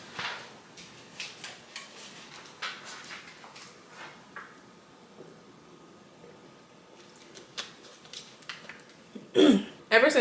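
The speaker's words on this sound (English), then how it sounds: "I'm constantly clearing my throat or sounding like something is in my throat" A few throat clearings and small coughs, close and intermittent, with quiet pauses between and a louder rough burst near the end.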